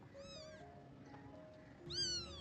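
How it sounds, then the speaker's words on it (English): A cat meows twice, a wavering call at the start and a louder, higher one near the end, with faint background hum in between. "we saw a male tortoiseshell cat roaming there"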